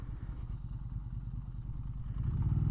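A Moto Guzzi Griso 1100 motorcycle engine idles with a rapid, lumpy low-pitched throb, swelling slightly louder toward the end.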